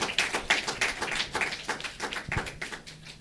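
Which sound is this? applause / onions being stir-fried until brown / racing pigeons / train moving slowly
applause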